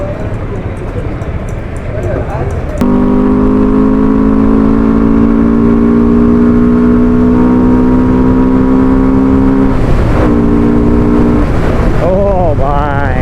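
A motorcycle engine revs hard and pulls away on a Gujarat road trip toward Okha and Bet Dwarka. Its loud, rising drone climbs in pitch, briefly dips, then surges again close by.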